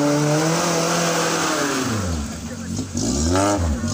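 An off-road toy car's engine revs loudly and close by, with rising and falling pitch sweeps as it accelerates, while a voice talks over it.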